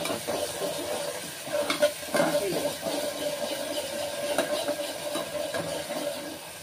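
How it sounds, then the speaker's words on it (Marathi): A ground paste of garlic, ginger, curry leaves and coriander is stirred in a pan for a green peas masala curry, with continuous soft sizzling and faint scraping of a spoon, steady throughout. "वाटण ही आपण हलवून घेऊया"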